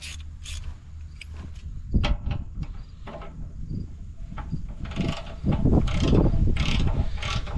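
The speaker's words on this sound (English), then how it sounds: "While I come down here, get the ratchet." A hand ratchet clicks in short bursts while tightening a bolt on a John Deere 787 strip till, close and mechanical, with metallic clanks and shuffling around it.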